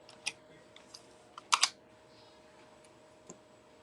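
Sparse keystrokes and clicks sound on a computer keyboard in a quiet room, a few isolated taps followed by a short cluster of louder clacks, close and faint between presses.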